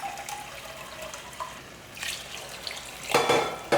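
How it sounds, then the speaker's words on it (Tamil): Water poured into a pot while cooking brinjal rice in a home kitchen, a soft splashing trickle that builds to a louder, fuller gush near the end, with no voices. "ஒரு கப் அளவுக்கு தண்ணியை இதில் ஊற்றிடலாம்."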